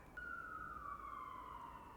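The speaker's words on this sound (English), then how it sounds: "there are still sirens here" A single emergency siren in New York City wails faintly from a distance, its steady tone sliding gradually lower over a low rumble of city background noise.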